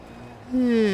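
Rally car engine in the Dirt Rally 2.0 racing game, a steady drone that rises sharply in pitch and loudness halfway through as the car revs up, heard briefly with no talk.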